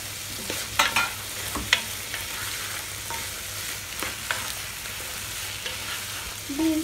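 Carrots and beans sauté in a pan for a Kerala-style chicken macaroni, a soft, even sizzle punctuated by a few sharp clacks and scrapes of stirring, fairly quiet throughout.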